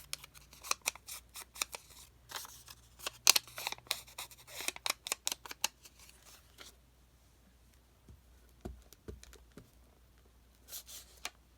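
Scissors snip through lace edges for a craft project in quick bursts of crisp cuts, then slow to a few scattered snips, close and fairly quiet.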